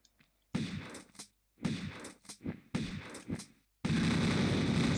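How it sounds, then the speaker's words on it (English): Lara's pistols fire in Tomb Raider (1996), loud close bursts of rapid gunshots in three short volleys separated by brief gaps, followed by a sustained dense burst, with no talking. "4 shots and he should be good"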